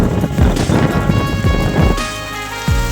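Loud, blustery typhoon wind gusts by Laguna Lake buffeting the microphone in strong gusts, with a rumbling low roar and no voices.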